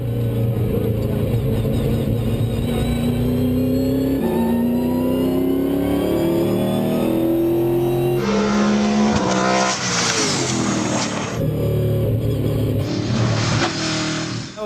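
A V8 Supercar race car roars loudly along a track, its engine climbing and shifting through gears with rising and falling revs and bursts of hard acceleration, continuous and close.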